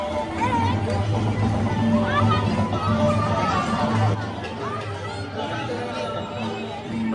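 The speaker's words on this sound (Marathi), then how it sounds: "गर्दी बघा, गर्दी" A dense crowd chatters steadily at a crowded Maha Shivratri temple fair at Sarsola village, many overlapping voices forming a continuous loud babble that eases slightly toward the end.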